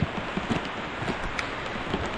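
Rain falls steadily on a flooded garden plot full of flowers, making a dense, continuous hiss with scattered nearby drop patters, loud and close.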